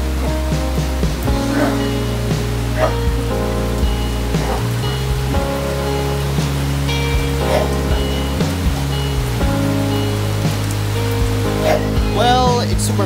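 Heavy rain pours down in Dumaguete, a loud, dense, continuous hiss with steady tonal hum and scattered sharper drips layered through it.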